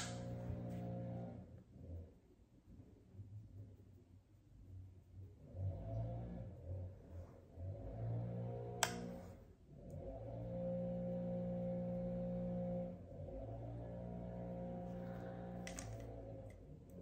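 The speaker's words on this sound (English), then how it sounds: "you're going to hear them blowing around the leaves out there" Leaf blowers run outside, blowing leaves around, as a steady droning engine hum that swells and dips and carries through the whole stretch with no talking over it.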